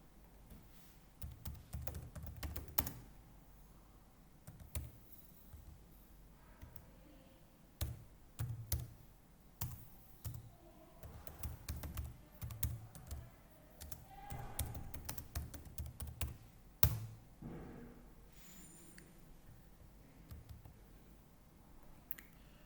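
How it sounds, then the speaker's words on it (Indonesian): Commands are typed on a computer keyboard while configuring inter-VLAN routing, with rapid irregular bursts of key taps and clicks that are close but quiet, coming and going in clusters with brief pauses. "Selanjutnya kita akan mengetikkan perintah."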